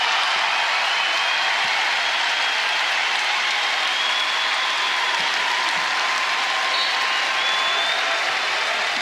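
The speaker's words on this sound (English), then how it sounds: "Ames, Iowa, applauding their All-American inside Hilton Coliseum for perhaps the last time" The crowd at Hilton Coliseum in Ames, Iowa, applauds All-American Ashley Joens during an NCAA women's basketball second-round game against Georgia. Loud sustained clapping fills the arena evenly for the whole stretch, with no voices standing out.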